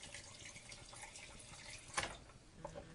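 Filtered water runs from a kitchen tap into a jar, a faint, steady close-up splash and trickle with a brief louder gush partway through.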